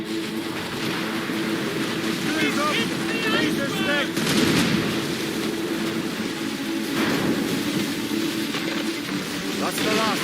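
Ship cannons booming in Assassin's Creed Rogue, heavy blasts rolling over churning sea and wind, with shouted voices on deck throughout.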